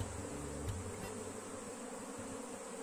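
A honeybee swarm with a new queen, partly confined, hums steadily and densely inside a hive. The buzzing is continuous and close, with a couple of brief knocks near the start.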